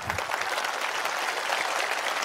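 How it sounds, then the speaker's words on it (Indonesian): A dense, steady wash of audience applause during a talk, many hands clapping together at an even level with no voices rising above it. "ayo tepuk tangan dulu."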